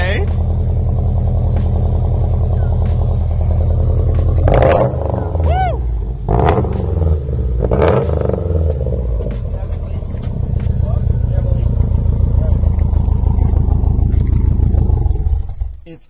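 A hot hatch car engine with a minor exhaust leak at a bolt hole runs loud and close, a deep throbbing rumble that builds into heavier revving in the second half, while people talk over it.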